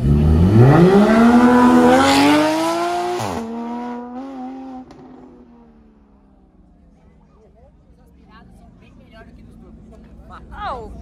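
Porsche Cup race cars pull away hard, the engine note climbing steeply as the car accelerates past, loud and close, then fading into the distance with a faint squeal near the end.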